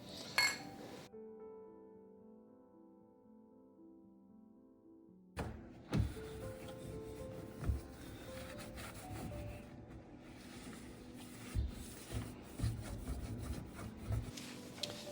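Scrubbing a grimy stainless steel stovetop spattered with cooking grease: after a short quiet stretch, steady close rubbing and scouring strokes continue with a few light knocks.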